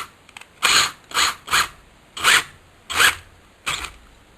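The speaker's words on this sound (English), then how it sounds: "We put a drill on it." Drill twisting ring wire while making a ring: about seven short whirring bursts with brief pauses between, close and fairly loud against a quiet background.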